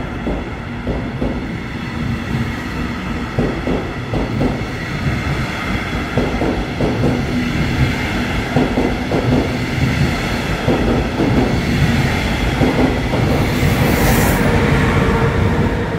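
A regional RE30 train pulls out of Kassel Wilhelmshöhe station with a steady, close rumble and rhythmic wheel clatter over the rail joints. A faint high squeal rises near the end, with no voices.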